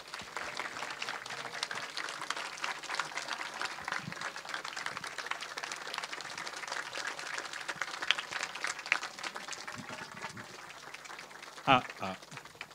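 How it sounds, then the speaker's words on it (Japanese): A seated audience at an on-stage music talk event gives steady, sustained applause that fills the room for over ten seconds, with a brief louder burst near the end. "皆様盛大な拍手でお迎えください"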